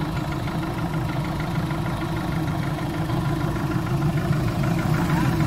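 Volkswagen Golf engine idling after a start in frost, a steady low rumble with even vibration held at a constant level throughout, close by with no talk.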